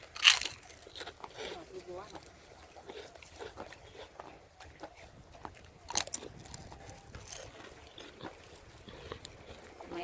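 Crispy Thai kite rice crackers, fresh from the grill, crunch loudly between the teeth in close, irregular bites with chewing, while people talk over it.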